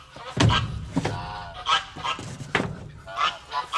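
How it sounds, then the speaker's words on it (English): Agitated farm geese honk repeatedly near their nest beside a hay store, a string of loud, harsh, close calls in irregular bursts. "the geese are getting upset because I'm getting hay"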